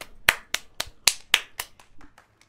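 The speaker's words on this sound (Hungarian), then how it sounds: "Az taps." A short run of about eight distinct hand claps in the video game Witcher 3, sharp and fairly close, with a slightly uneven rhythm that thins out toward the end.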